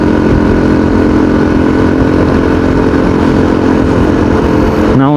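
Honda Super Cub C70 small-displacement engine running steadily, close and loud, a continuous buzzing drone with a brief shift in pitch at the very end.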